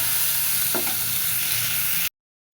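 Curry seasoned with turmeric and salt is stirred in a pan, a steady close scraping and sizzling with no talk, cutting off abruptly into silence near the end.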